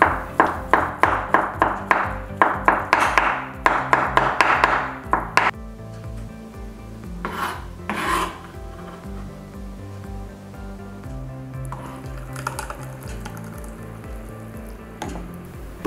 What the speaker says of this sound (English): Peel the boiled eggs and chop them.